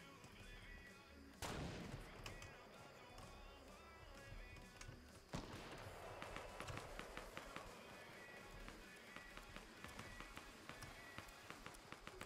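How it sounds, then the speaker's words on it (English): Video game gunfight in Fortnite Battle Royale, with two sharp, heavy shots followed by a rapid scatter of quieter pops and clicks throughout. The whole exchange is faint and sounds distant, with no talking. "Let's just watch this gunfight."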